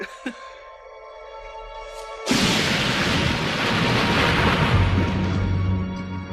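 Strong storm wind gusts across a beach, a sudden loud roaring blast that cuts in after a quieter start and keeps buffeting steadily.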